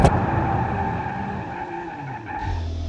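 Sports car in the BeamNG.drive driving game braking hard in a brake test, a sustained loud tire squeal and skid with engine tone, close and continuous, ending with a shift in pitch.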